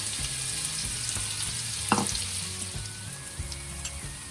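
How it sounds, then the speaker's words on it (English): Chopped onions fry in hot oil in a pan, giving a steady crackling sizzle close by, with an occasional clink of stirring over the top. "heat some oil in a pan, and then we will add our chopped onions and cook that until it's a light brown"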